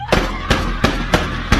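Sharp gunshots recreate the Jallianwala Bagh shooting: five loud, close, crackling reports fired in a quick, evenly spaced rhythm, alone with no voices.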